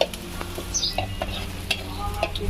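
Chopped spinach and onion frying in oil, a close continuous sizzle with stirring scrapes and light clinks of a utensil against the pan, no voices.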